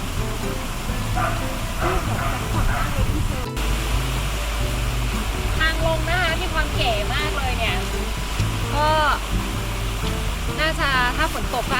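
Constant rushing water from the waterfall at Hidden Falls cafe in Chonburi, Thailand, fills the scene as a loud, steady roar, with people talking and chirping birds over it.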